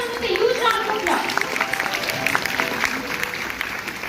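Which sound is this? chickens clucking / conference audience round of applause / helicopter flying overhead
conference audience round of applause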